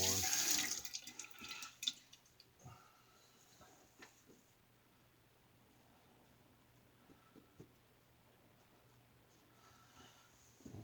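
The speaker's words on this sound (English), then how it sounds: "Let's rinse the razor here" A razor rinsed under a running bathroom tap: a loud burst of flowing water at the start, then quiet trickles, soft drips and a few light knocks, close and faint.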